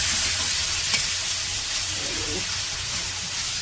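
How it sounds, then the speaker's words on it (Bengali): Many fish frying together in a village kitchen wok and being stirred, a steady close sizzle with scraping stir noises and a small clank near the start. "আমার মার হচ্ছে স্পেশাল মাছ ভাজা, একবারে সব এক সমানে দিয়ে নাড়াচাড়া দিয়ে নামে হেলাইব খালি।"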